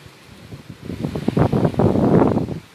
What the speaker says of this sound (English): as the wind blows and everything else